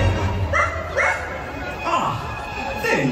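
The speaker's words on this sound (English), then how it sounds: "Where is that dog?" A dog gives several short yips and barks at a distance, mixed with whimpery tones, under music and a busy, noisy background at an outdoor Halloween show.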